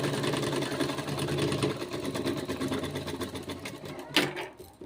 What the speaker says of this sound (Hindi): इस तरीके से ऐसे पूरे गले में सिलाई लगा लेनी है।